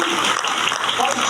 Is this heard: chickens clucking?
no